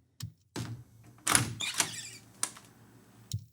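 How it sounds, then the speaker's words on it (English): A door handle is turned sharply and the door swings open, heard as a quick click, a rattling thunk and a scrape, then a final snap as the handle springs back, all quiet and close with no talking. "You've got the door where somebody grabs the handle and turns it very sharply, right there. And then the door begins to move."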